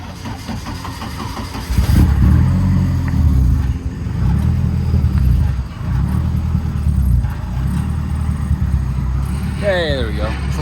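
A quarter midget race car engine fires up and revs, a loud rough mid-pitched buzz that surges and settles, with people talking over it.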